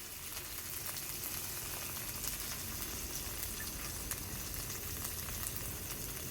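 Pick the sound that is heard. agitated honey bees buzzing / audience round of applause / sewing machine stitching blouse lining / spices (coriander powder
spices (coriander powder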